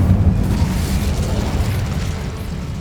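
A fiery Incendio spell is cast in Hogwarts Legacy on PS5, making a loud, rumbling, explosive burst that roars steadily for about three seconds with no voices over it.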